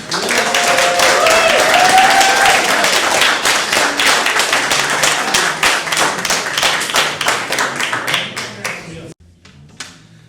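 Festival audience at a folk music set applauds loudly, a dense wash of claps with scattered whoops that slowly thins out over about nine seconds, then a few last isolated claps.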